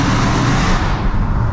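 A modified 914bhp Dodge Hellcat with a decat exhaust roars loud and close, a brief broadband blast of engine and exhaust noise with no talk.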